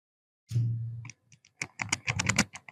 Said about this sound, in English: Control E on your keyboard to rotate.